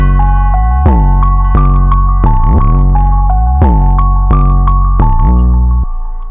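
A piano melody plays straight without pitch bend over a deep, booming bass-heavy beat, notes held steady and loud before the sound cuts off near the end.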